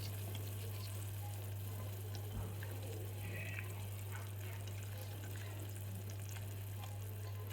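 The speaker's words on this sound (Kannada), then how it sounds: "ಸೊ ಇದು ಕುದೀತಾ ಇದೆ." Tomato saaru bubbling and simmering in a pot, a steady soft sizzling hiss with faint bubbling pops, fairly quiet and continuous with no talking.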